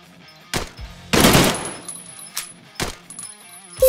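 Automatic weapon fire in the VR shooter Drunk Or Dead 2: a few short, sharp bursts and single cracks, the loudest a dense half-second volley, with quieter game sounds around them and no talk.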